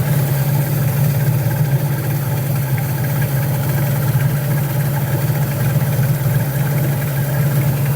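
A small outboard boat engine idles steadily during winter storage, a constant close mechanical drone with a low throbbing hum, running alone without voices.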